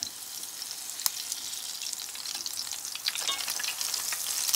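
Crab cakes sizzle and crackle steadily in a hot pan, a continuous hiss with scattered pops and a brief scrape partway through.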